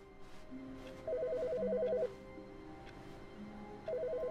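A telephone rings inside the video game The Stanley Parable, two steady electronic ring bursts separated by a pause, heard over a low background hum.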